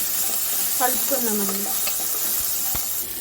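Green chillies dropped into hot oil in a pan for bagara rice, frying with a bright sizzle and stirring clinks, while a voice talks over it.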